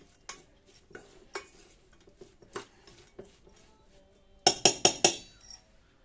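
A spoon works mashed aloo tikki patty mixture with cornflour in a bowl, giving soft scrapes and scattered clinks, then a quick run of loud metallic taps against the bowl near the end.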